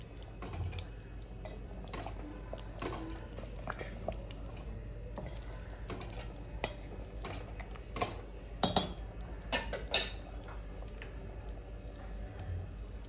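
A spoon stirs makhni egg malai gravy in a pan, making scattered light clinks and scrapes against the metal over a soft, wet bubbling. The sound is quiet and close, with a few louder knocks near the end.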